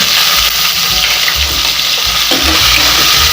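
Chopped onion goes into hot oil already frying with cumin and dried red chillies for a dal sambar, giving a loud, steady close-up sizzle with occasional stirring and no speech.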